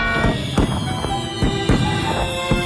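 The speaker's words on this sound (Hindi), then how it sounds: "आतिशबाजी के लिए धन्यवाद" Fireworks go off in a series of sharp pops and bangs at a fairly steady pace, heard over a constant bright background of music-like tones.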